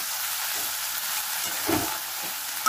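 Prawns stirred in a hot frying pan, a continuous hiss of frying with one brief scraping stir near the end, close up and without talk.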